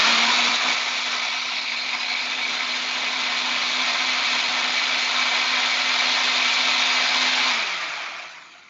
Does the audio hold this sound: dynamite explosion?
no